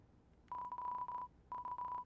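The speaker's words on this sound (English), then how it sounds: "The phone is ringing, but you can't get it." A phone rings in the video game Deltarune as an electronic tone pulsing in short repeated bursts, two clear groups of beeps separated by a brief pause.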